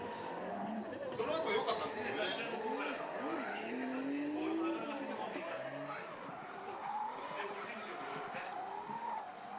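A drift car circles Okayama International Circuit during Formula Drift Japan qualifying. Its engine wails and its tires squeal in long sliding tones at middle distance, while commentators talk over the run throughout.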